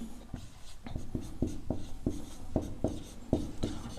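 A pen scratches out a maths solution on paper in quick, rhythmic strokes and taps, close and fairly quiet, with no talking.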